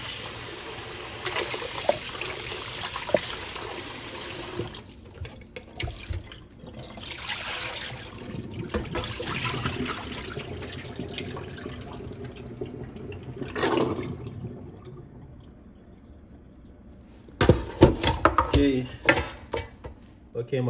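Running water from a tap splashes over raw chicken as it is rinsed, a steady hissing stream with gurgles, fading out near the end before a louder burst of splashing and handling, with a voice speaking at times.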